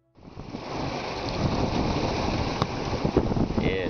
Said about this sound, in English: Winds blowing in the high teens